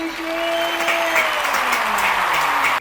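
Applause from the audience at a panel session on new right-wing politics, broad and sustained clapping that swells in quickly and holds steady, with faint tonal traces of a voice underneath.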